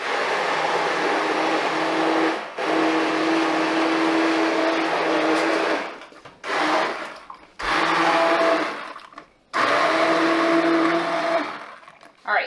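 A kitchen blender purees tomatoes for homemade pasta sauce, running loud and steady in several bursts of a few seconds each, with brief pauses between runs.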